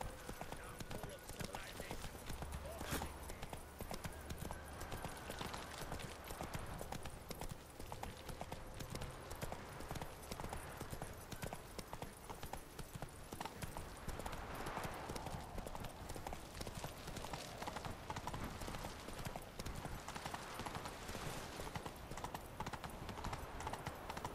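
Roach the horse gallops in The Witcher 3, with steady rhythmic clip-clop of hooves running continuously over ambient game sound and music, close and fairly loud throughout.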